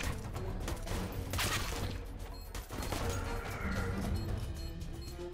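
Gunfire in the Counter-Strike Source video game crackles as a sustained, fairly quiet barrage of rapid shots and impacts, with faint voices in the background.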